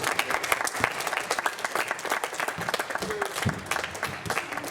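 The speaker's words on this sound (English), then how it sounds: "I just want to give the young kids here who have volunteered to help us out a massive round of applause." Applause for young volunteers at a basketball offensive drills session, a scattered round of clapping from the audience that stays fairly steady for several seconds, with speech faintly mixed in.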